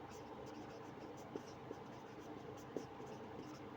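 A pen scratches out chemistry notation by hand on paper, faint and close, a soft steady scribble with a few small taps while someone talks quietly over it.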